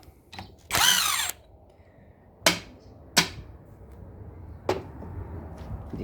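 A power tool drives an 11 socket on the starter cover of a Peugeot 504/505 Paris Rhone starter: one longer whirring burst, then three short sharp zips, close and loud in a quiet workshop.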